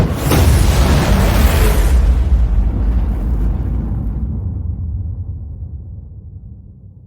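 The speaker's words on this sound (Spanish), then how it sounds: "una explosión aterradora que sonaba como si fuera a partir el mundo por la mitad resonó" A terrifying explosion sound effect within audiobook narration, a loud broadband boom with a deep rumbling tail that fades slowly over several seconds, heard alone with no voice.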